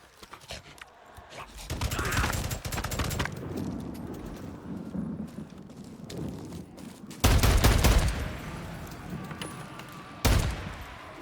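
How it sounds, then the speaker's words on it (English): Bursts of M14 rifle fire in Days Gone: dense volleys of sharp gunshots in clusters, the loudest near the end, over continuous game noise. "This is the best way to use an M14, dude."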